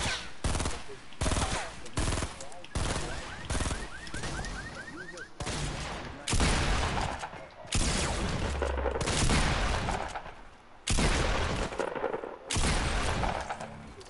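Bursts of automatic gunfire in Fortnite, several sharp volleys spaced through the stretch, fairly loud and close, with brief gaps between bursts and faint game sounds underneath.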